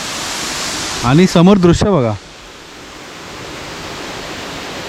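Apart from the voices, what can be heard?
waterfall in the Sahyadri forest at Gaymukh, Poladpur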